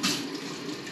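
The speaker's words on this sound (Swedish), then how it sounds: "Jag tror jag spolar lite varmvatten." Warm water runs steadily from a tap in a cold workshop setting, a close, continuous gushing hiss with a brief louder splash at the start.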